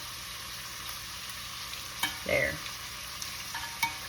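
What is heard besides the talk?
shrimp pan searing and sizzling in a hot pan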